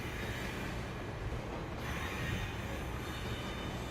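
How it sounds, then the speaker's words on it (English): A fast-moving train in a video game gives a steady, loud rumble of wheels and carriage noise with a faint metallic squeal, continuous and close throughout. "We're on a train, yeah. It's going fast"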